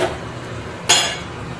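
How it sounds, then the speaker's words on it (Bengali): Spices being stirred into fried coconut in a pan: a quiet background hiss, then a sharp metallic clink of a utensil against the pan near the middle, followed by brief scraping, close by with no voices. "এবার আমি মশলাটা এর মধ্যে দিয়ে দেবো, দিয়ে আমি ভালো করে এবার নেড়ে চেড়ে কষিয়ে নেবো"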